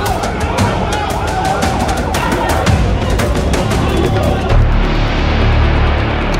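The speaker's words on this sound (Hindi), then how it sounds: "इस अस्पताल के बाहर एक के बाद एक एम्बुलेंस फ्लैश" Ambulance sirens wail outside a hospital in the West Bank as emergency vehicles arrive one after another, loud and continuous over a busy crowd and street din.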